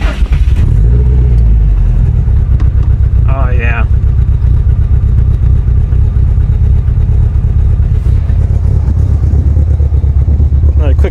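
A 2019 Subaru STI engine built to 700 whp runs loudly and steadily throughout, with a low rumble and a brief rev near the start; someone speaks briefly over it.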